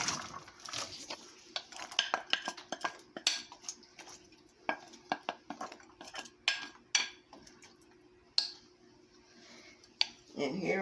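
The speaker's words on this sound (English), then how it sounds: "All the veggies that I already chopped up so far, I'm going to put in the pot." Chopped vegetables, including parsnips and carrots, tumble into a pot with a run of clattering knocks and scrapes of utensils and cookware, close and intermittent, in a quiet kitchen.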